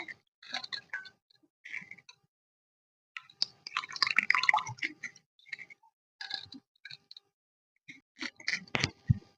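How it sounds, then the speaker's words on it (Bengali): Soaked dried shrimp squeezed out by hand, giving scattered wet squelches, drips and small ticking water sounds in irregular bursts with quiet pauses between them. "একটু নিংড়ে নিচ্ছি"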